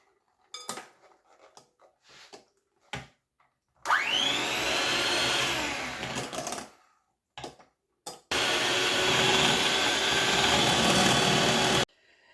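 Mango pieces blended with thick whole milk in a single pot, a loud continuous motor whir running in two long bursts separated by a short pause, with clatter and kitchen handling noises around them.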